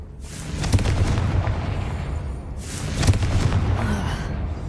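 Confringo spell blasts in the Hogwarts Legacy video game, destroying giant spider egg sacks: two loud booming explosions about two seconds apart, each with a crackling burst and rumbling tail, with no talk over them.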